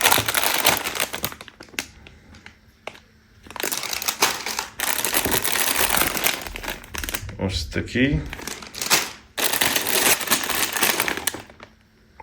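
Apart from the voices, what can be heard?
handling crinkly Lego polybag packets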